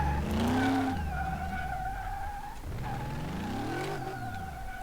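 Virtual car in the video game Mechanic Simulator, engine tone revving up and dropping with a few shifts, with a brief tire skid at the start, steady and moderately loud with no talking.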